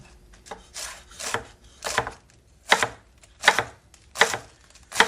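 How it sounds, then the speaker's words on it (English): A knife chops through fresh cabbage on a cutting board for minestrone soup, about eight crisp crunching cuts at an even, unhurried rhythm, close and clear with no talk. "Nice fresh cabbage. I'll use half."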